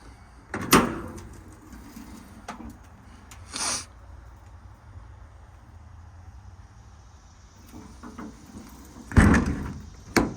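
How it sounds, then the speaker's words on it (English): Several solid door thumps from a 2018 Ram 5500 Cummins diesel mechanics crane truck, one early, one midway, and a louder pair near the end, with quiet gaps between them. "All the doors close, latch, and lock as they should."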